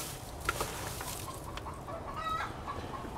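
Chickens cluck softly nearby in quiet, scattered bursts against a faint background hiss, with no voices.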